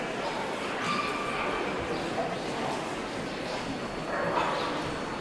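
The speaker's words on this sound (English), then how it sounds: "this is the cheekiness of the Chihuahua, or the sauciness of the Chihuahua" Small Chihuahua at an indoor dog show giving faint, scattered yips and whimpery barks amid a constant murmur of crowd and hall noise.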